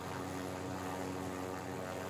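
A helicopter flies in the Call of Duty Warzone video game, a steady, dense rotor and engine drone that stays constant and fairly faint throughout, with no talking.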